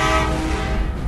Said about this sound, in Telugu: హార్న్, అది సౌండ్ అయితే వస్తుంది హార్న్